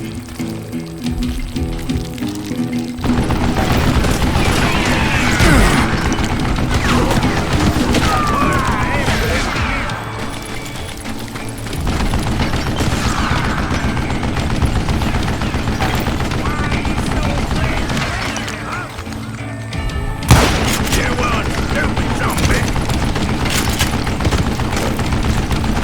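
Western shootout in Call of Juarez Gunslinger, with dense rattling gunfire and mechanical clatter held under loud music and ambience for most of the stretch, broken by a short lull and a sharp burst near the end.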